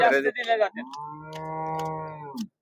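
A cow at a cattle market gives one long, loud, close moo that follows a few seconds of talk by a man.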